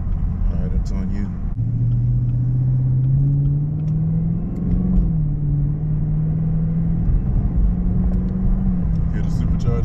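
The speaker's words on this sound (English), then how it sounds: "Hear the supercharger? I hear it winding." Chevrolet Camaro ZL1 heard from inside while driving, with a low engine rumble and a rising, wavering supercharger whine. People talk over it.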